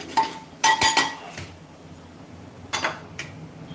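A spoon clinks and scrapes against a cooking pot while khichdi mixture is stirred, in a few close, sharp knocks separated by quiet stretches.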